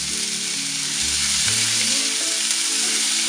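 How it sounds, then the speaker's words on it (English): Onions, garlic and cilantro sauté in oil in a pan, with a steady close sizzle throughout and brief stirring scrapes. "I'm going to start by sauteing some onions, garlic, and cilantro in some oil."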